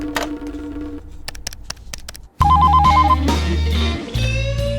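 A telephone bell rings in short repeated bursts, clear and close, followed by a louder electronic ringtone with a low hum underneath.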